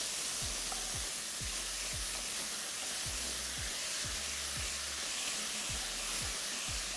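Chicken hotpot with Dijon mustard sizzles steadily in a pot while a spoon scrapes through it in regular low strokes, a constant close frying hiss with no voices.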